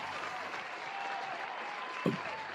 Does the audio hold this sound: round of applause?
yes